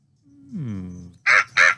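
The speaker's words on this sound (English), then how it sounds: "The crows are very noisy." Two loud, harsh crow caws close by, each about a quarter second, following a rising, drawn-out voiced sound from a person.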